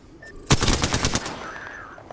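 A rapid burst of automatic gunfire from a weapon in the video game Apex Legends, loud and close, rattling for under a second before trailing off.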